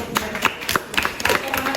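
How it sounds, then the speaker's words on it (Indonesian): A classroom audience gives a short burst of handclaps. The claps are sparse and uneven, a few hands tapping out close-by, light, irregular beats. "Oke, dah tepuk tangan dulu."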